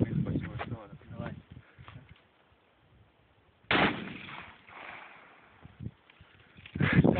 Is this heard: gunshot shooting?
yes